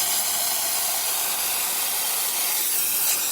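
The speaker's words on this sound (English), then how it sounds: "Steamer is working correctly," A Quick Mill espresso machine's steam wand steams in a steady, fairly loud broadband hiss that runs unbroken for a few seconds, with no voices.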